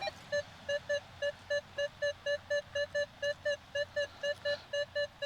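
A rapid train of steady, high-pitched electronic beeps from a metal detector on a rocky Australian beach, about three per second, evenly spaced over a low background hiss.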